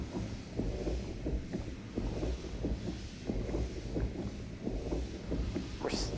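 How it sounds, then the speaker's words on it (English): Heartbeat in the deep-sea diving game Narcosis: a steady, muffled low thumping repeats about once per second, with a constant windy rumble around it and no voices. "We're still hearing the heartbeat."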